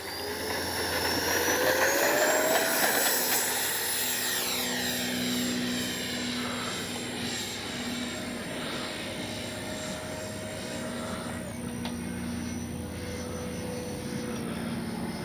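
A small FMS 64mm Futura RC model jet's engine whines overhead, pitch sliding as it passes and fades into the distance, loud at first then steady.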